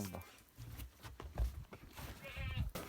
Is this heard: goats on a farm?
yes